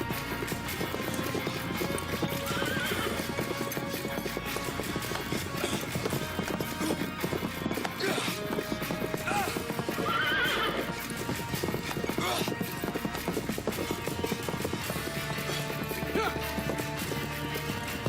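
Horse hooves clip-clop in a steady galloping rhythm, with loud whinnying neighs rising twice over busy background noise and some voices.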